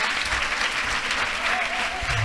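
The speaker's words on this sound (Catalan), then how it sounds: "Va, un aplaudiment" Dense, steady applause from an audience at a Catalan panel talk on culture and transgression, filling the whole stretch evenly and continuously without any letup or clear voices.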